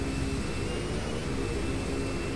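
Twin EMB-120 turboprop engines in a flight simulator game during takeoff, a steady droning hum with low rumble and a faint high whine, constant and even throughout.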